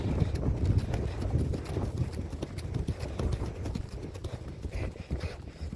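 Ponies' hooves clip-clop steadily and close by on a trail ride, with a fairly quick, uneven rhythm of many overlapping hoofbeats over light wind and rustle.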